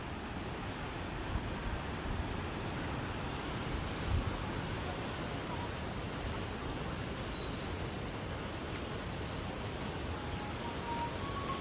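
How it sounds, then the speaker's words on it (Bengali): A low-flowing waterfall, thin after dry weather, spills into the Alaknanda river and makes a steady, even rush of water that lasts the whole time with no voices. "আর দেখুন সামনে ঝর্ণা।"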